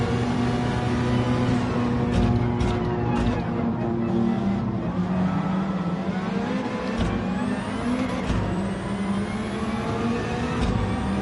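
Nissan Skyline Super Silhouette time attack race car in Gran Turismo 7, its engine droning loud and continuous with rising and falling revs as it accelerates and shifts, with occasional faint talk underneath.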